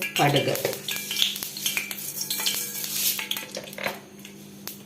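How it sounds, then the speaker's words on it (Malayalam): Mustard seeds in hot coconut oil in a pan for Kerala chena thoran, with a busy clatter of a spoon against the pan over crackling sizzle and quick, irregular pops and scrapes. "കടുക് പൊട്ടി വരുമ്പോൾ"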